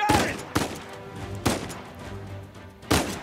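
Gunfire in the video game Uncharted 4: three sharp, loud shots spaced about a second apart, each with a booming tail, over low game ambience.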